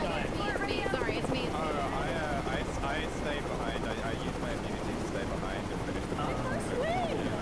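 A helicopter in the video game Project Winter churns loudly and continuously under overlapping player chatter.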